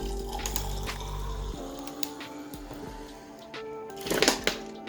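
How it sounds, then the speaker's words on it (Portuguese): Vinegar poured into a glass jar mixed with water, soap powder and alcohol, a steady liquid stream with drips and splashes and a louder gurgle near the end, close and without speech. "eu vou colocar um copo de vinagre para cada litro de água"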